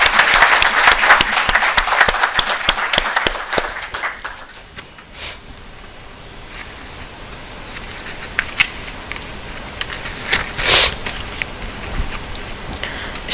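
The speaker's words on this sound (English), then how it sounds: "A big round of applause." An audience at a birders' annual dinner applauds, with dense clapping for about four seconds that thins to scattered claps and faint room noise.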